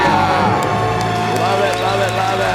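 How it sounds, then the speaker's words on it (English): A couple's loud joint scream of celebration after paying off their debt, shouting voices with cheering over crowd noise, sustained and close, with speech-like yelling throughout. "Let's hear a debt-free scream."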